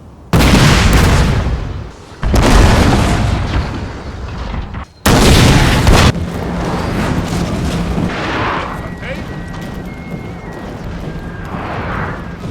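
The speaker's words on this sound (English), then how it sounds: "He began a massive bombardment into the Austrian lines." Napoleonic artillery pounds away in a Total War battle recreating Leipzig 1813, with three loud, close booms followed by lingering rumble and scattered distant bursts.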